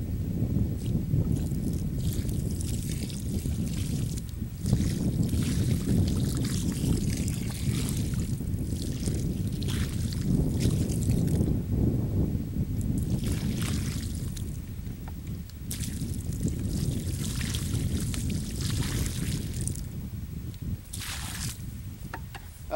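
Water from a bucket is poured steadily onto the soil around a newly planted Red Delicious apple tree, a continuous soft splashing and trickling that lasts over twenty seconds with slight surges, close by and with no talk.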